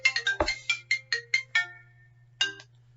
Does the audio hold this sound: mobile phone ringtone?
yes